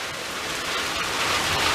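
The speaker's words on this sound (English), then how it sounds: "More rain than we had during the whole hurricane right now." Heavy rain pours down steadily in a broadband hiss during flooding after a hurricane, loud and continuous with no voices.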